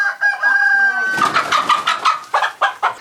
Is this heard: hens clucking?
yes